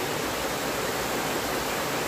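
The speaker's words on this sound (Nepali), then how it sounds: "हाम्रो गाउँ झरना चाहिँ यस्तो छ" A village waterfall roars as a continuous, even wash of rushing water, close and steady, with no voices over it.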